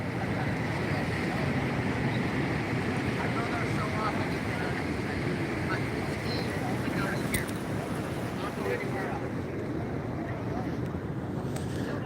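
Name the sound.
ocean waves breaking at Pismo Beach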